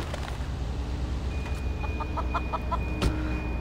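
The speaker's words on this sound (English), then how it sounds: "Just the chickens in the background." Chickens clucking inside a chicken van in the video game Sleeping Dogs, a string of short clucks over a steady engine and road rumble, with one sharper squawk near the end.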